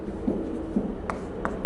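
Marker writing chemical element names on a classroom board, a couple of soft squeaky strokes followed by light taps, close and brief under a steady room hum.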